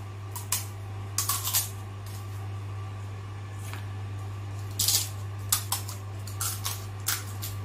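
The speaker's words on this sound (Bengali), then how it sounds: "এবার আমি প্রথমে ফুচকাগুলোকে একটু ফাটিয়ে নিচ্ছি" Crisp hollow phuchka (puri) shells cracked open one by one for doi phuchka, giving sharp, brittle snaps in small scattered clusters over a steady low kitchen hum.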